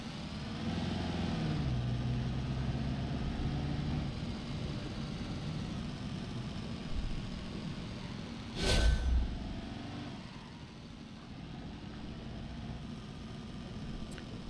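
A car's engine idles steadily in the BeamNG driving game, a continuous low hum with a brief louder swell partway through, then settling back to an even drone.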